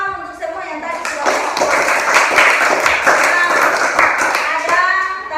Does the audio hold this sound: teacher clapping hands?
yes